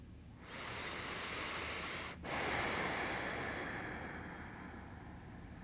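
A long, deep breath taken during a morning stretch for a stiff upper back and shoulders: a steady, close, airy inhale lasting several seconds with a brief pause before the exhale, alone and without talk.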